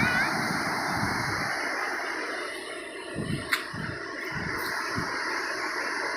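Water rushing steadily through an open dam gate, a broad roaring wash heard close with wind buffeting the microphone and a few faint thumps.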